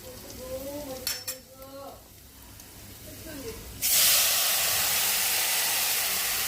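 Rice hits a hot pan with turmeric for khichdi, setting off a sudden loud, continuous sizzling hiss that follows a few seconds of someone talking quietly.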